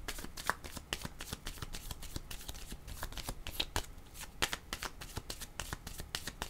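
A tarot deck is shuffled near at hand, with quick repeated card flicks and soft slaps in a steady, unbroken rhythm and no talking.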